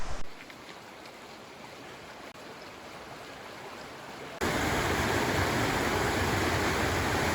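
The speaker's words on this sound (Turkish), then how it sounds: "Şelale parkurundaki akarsunun güzelliğine bakar mısınız?" A stream flows along the Kurudere waterfall trail in Sakarya, a steady broadband rush of running water that jumps abruptly to a much louder, fuller roar partway through, with no voices.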